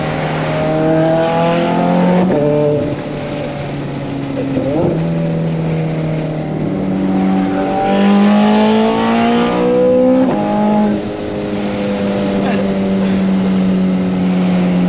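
A Toyota Yaris engine revs repeatedly nearby, rising and falling whine with gear-like steps in pitch, loud and steady with brief dips between pulls.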